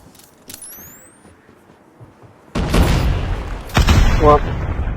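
A grenade blast in the mobile shooter Call of Duty Mobile, a loud broadband burst hitting suddenly after a quiet stretch, followed by a second sharp crack and rumbling game noise, with a voice briefly audible.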